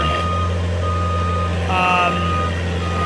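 JLG 460SJ boom lift driving in high range at high throttle, a loud steady diesel drone with its travel alarm beeping repeatedly over it, speech partly audible.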